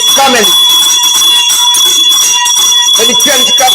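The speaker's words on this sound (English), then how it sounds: "Let's ring the bell for the comments today." Bell-ringing sound effect with steady, bright, sustained tones running throughout, loud and continuous beneath a person talking over it.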